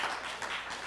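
Brief, steady clapping from an audience at a student media awards ceremony, a dense wash of hands that sounds somewhat distant, with no talking over it.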